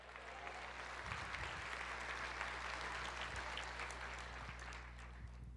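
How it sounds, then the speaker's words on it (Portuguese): A church congregation applauds steadily in a broad, even wash of clapping that holds for several seconds, with a low constant hum underneath and no voices standing out. "Quantos podem aplaudir, dizer glória a Deus?"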